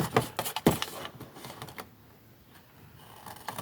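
Scissors or a blade cut around a recycled cardboard box, with a cluster of sharp snips and crunches at first, then a few softer cuts that thin out into near quiet.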